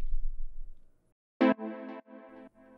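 Tech house chords built in FL Studio with a stock synth play alone, a few sustained stabs after a brief fading low tone, bright and clean.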